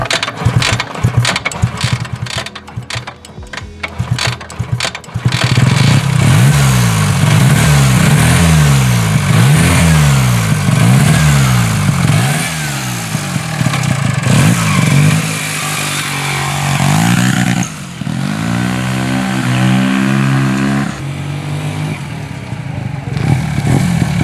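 A 1970s Hercules Wankel 2000 rotary-engine motorcycle runs close by, first with a burst of clattering mechanical noise, then a loud, smooth engine repeatedly revving up and falling back in rising and falling sweeps.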